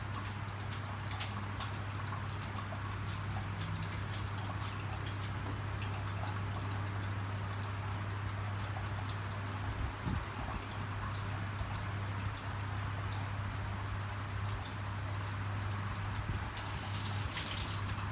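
Clean filtered water runs into a pot for boiling potatoes, a steady close pour and splash that carries on throughout at an even level, with a few brief knocks along the way.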